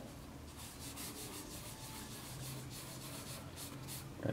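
A dish sponge rubs charcoal across drawing paper in soft, continuous scrubbing strokes, faint and close with a gentle repeating rhythm.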